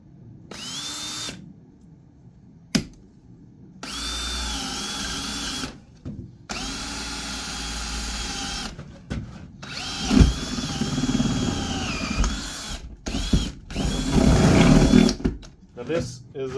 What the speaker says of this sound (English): I'm just gonna drill a hole right around where I want it